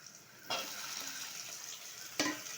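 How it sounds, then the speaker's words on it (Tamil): Onions, tomatoes and green chillies sauté in a pan with a steady, close frying hiss, broken by two sharp stirring scrapes early and late. "இதையும் நல்லா வதக்கி விட்டுப்போம்"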